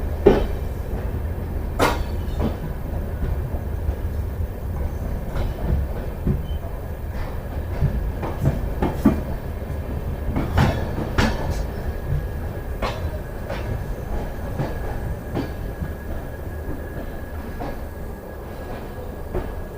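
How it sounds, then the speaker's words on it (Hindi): An LHB passenger train, the Kotdwar Express, pulling into a station platform: steady low rumble of rolling coaches with rhythmic wheel clicks and clanks over rail joints, fairly close and continuous. "प्लेटफॉर्म नंबर 1 पर हमारी ट्रेन का अराइवल हो रहा है।"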